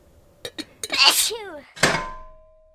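A voice imitates a magic soup pot sneezing in a children's story, the pot full of peppered soup: a few short sniffing catches build into a breathy burst, then a second sharp sneeze that trails off, close and clear.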